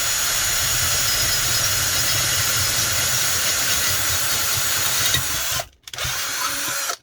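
Power drill boring a 6mm hole while making an anchovy-net camping hot water tank, a loud continuous whirring drone up close that cuts out briefly near the end and then starts again, with no talk.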